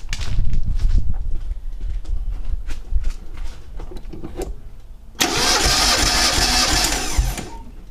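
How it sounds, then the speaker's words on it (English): A Mazda MX-5 Miata engine, an NA model, is cranked with the throttle held wide open for a compression test. Scattered clicks and rumbles give way to a loud, steady, buzzing starter whir that runs to the end. "You want to crank the engine while holding the throttle all the way wide open"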